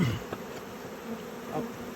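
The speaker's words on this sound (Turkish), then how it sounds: "Arı yoğunluğu böyle." Honeybees buzz in a dense, continuous hum during a honey harvest, close and steady, with individual bees droning past now and then.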